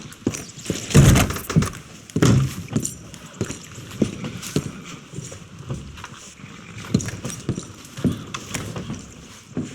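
Horses trot in Red Dead Redemption 2, their hooves clip-clopping in a loud, close, uneven rhythm with a couple of heavy thuds early on, continuing steadily without any talk.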